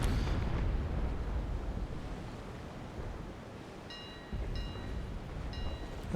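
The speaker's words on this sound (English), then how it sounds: "Let's just fire some shots." Broadside cannon fire from sailing warships in a Naval Action fleet battle rumbles as a dense, continuous booming roar with overlapping low thuds, and a few brief ringing tones cut in near the end.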